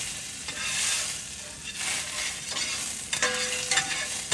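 Butter sizzles and crackles in a hot pan for a fried bologna sandwich, coming in uneven hissing bursts with scraping and stirring noises close by.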